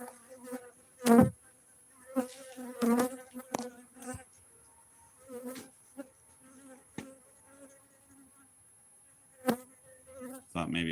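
Bees buzz around a beekeeper in loud close passes that swell and fade at irregular intervals, with a steady lower drone in between and a brief rustle at the end.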